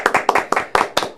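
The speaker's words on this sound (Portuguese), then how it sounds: "Uma salva de palmas para os nossos convidados" Close, loud rhythmic clapping from a small audience thanking guests at a networking talk, about a dozen sharp claps in quick succession with no one speaking.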